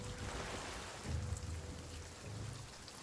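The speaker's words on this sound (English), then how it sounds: "Oh, dude, it's raining." Steady rain pours down in a pirate video game, a continuous hiss of falling water with low rumbling swells, moderately quiet and with no talk over it.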